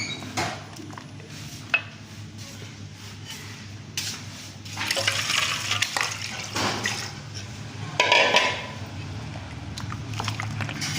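Freshly churned homemade butter, gathered with ice, is washed by hand in water two or three times, giving close splashing and sloshing with brief clinks of a pot, rising in bursts and fading between them.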